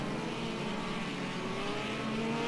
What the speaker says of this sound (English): 68 Thornton is starting to now pull away from 447 Turner at the front